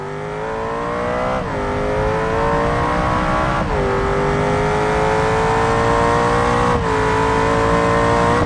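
Ferrari engine in BeamNG Drive revving continuously with a loud, strained whine, pitch rising steadily then dropping briefly at three gear shifts before climbing again, with no talk.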